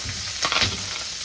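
Cumin seeds and finely chopped green chili, added after mustard seeds, sizzle in hot oil for nuts-and-coconut poha, a brief steady crackling hiss with a small flare in the middle.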